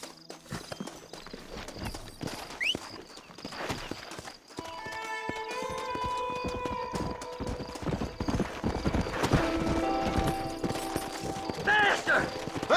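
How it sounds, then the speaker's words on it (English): Horse hooves clip-clop at a steady gallop in Red Dead Redemption, with a horse whinnying near the end, under game music and some speech. "Horses are over here!"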